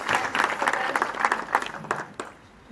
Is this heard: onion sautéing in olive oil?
no